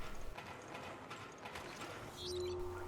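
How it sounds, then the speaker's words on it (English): A gear mechanism in Resident Evil Revelations spins after a button press, giving a steady mechanical clatter and ratcheting drone with a thin metallic whine rising near the end. "Push the button. Oh look, it spins in circles. A cog?"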